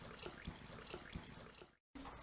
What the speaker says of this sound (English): we're just going to pour it directly from there into our cup and enjoy a nice cup of tea